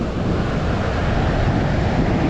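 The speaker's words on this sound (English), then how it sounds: "The healing power of the ocean." Ocean surf rolls onto the beach at Gouritsmond, South Africa, a loud, continuous wash of broadband noise with wind buffeting the microphone.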